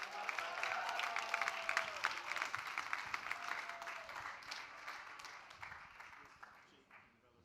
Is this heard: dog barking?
no